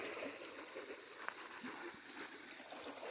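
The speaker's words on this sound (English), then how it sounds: "It's a nice steady creek." A steady creek flows along the Appalachian Trail, a continuous soft rushing and trickle of water heard at a modest distance, faint and even with no voices.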